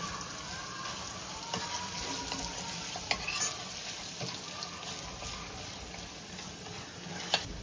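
Garlic paste frying with carom seeds and asafoetida in hot oil in a pan makes a steady, fairly soft sizzle and hiss with a couple of sharp clicks from a spoon.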